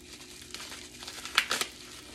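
Packaging peanuts and wrapping crinkle and rustle close by as a parcel is opened, mostly soft and scattered, with a couple of sharper crackles near the end.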